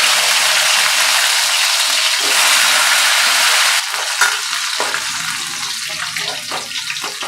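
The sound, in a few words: taro frying in oil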